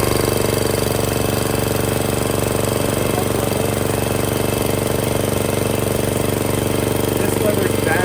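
An old log splitter's small engine runs steadily up close, a loud continuous chugging drone with dense rapid firing pulses that holds an even level throughout.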